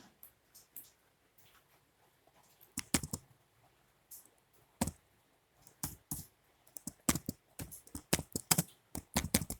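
Typing on a computer keyboard while entering values into an Excel spreadsheet: irregular close-up bursts of sharp keystroke clicks with short pauses between them, and no voices.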